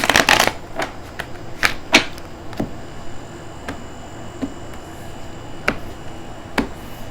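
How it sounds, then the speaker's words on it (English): Tarot cards being shuffled by hand, a quick flurry of riffling at the start followed by scattered sharp single slaps and taps spaced out over several seconds, close and crisp. "one more shuffle"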